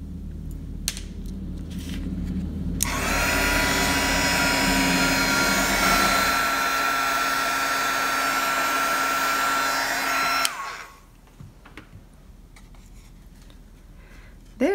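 A heat tool switches on with a loud, steady blowing whoosh close up, melting embossing powder on paper. It runs for about eight seconds, then cuts off abruptly, leaving quiet handling sounds.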